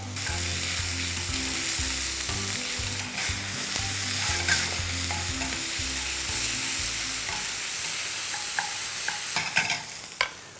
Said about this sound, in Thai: ใส่กระเทียมลงไปเจียวให้หอมครับ ตามด้วยเนื้อหมูบดมะกอกดำเครสโปสับ